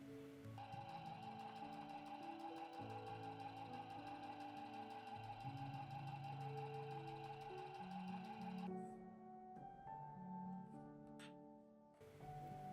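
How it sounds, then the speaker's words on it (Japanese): A sewing machine stitches the pocket opening of a fabric basket-pattern pouch, its fast even needle clatter running steadily and close, then stopping as quiet soft music continues faintly underneath. "ここミシンで簡単に縫います。"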